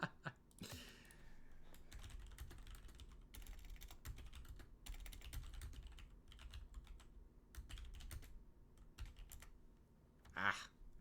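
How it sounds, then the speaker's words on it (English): A message typed out on a computer keyboard: rapid, close clatter of keystrokes in uneven bursts and pauses, with a few louder clicks near the end. "Typed out a whole message to the players just there"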